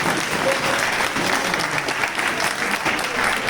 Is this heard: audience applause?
yes